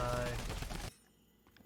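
A drum gun firing in a video game, a dense rapid burst of shots for under a second that then cuts off abruptly, leaving quiet with faint sounds.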